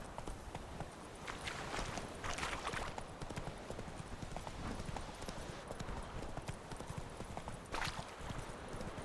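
A horse's hooves clip-clop steadily while it is ridden in The Witcher 3: Wild Hunt, a brisk, even trotting rhythm at moderate volume with brief louder bursts.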